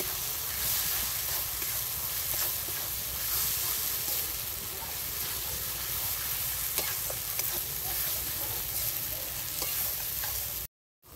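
Ground ginger and onion fry in a pan for a potato and egg curry, a loud continuous sizzle and hiss with occasional stirring scrapes, ending in abrupt silence.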